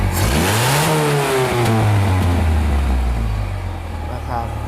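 A car engine revved repeatedly with the throttle, loud and close, its pitch sweeping up and falling back before settling toward idle, with voices heard during the revving.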